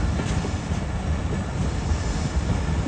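Khushal Khan Khattak Express rolling into Sehwan, a steady loud rumble of wheels and carriages with faint rhythmic clatter, continuous and close throughout with no voices.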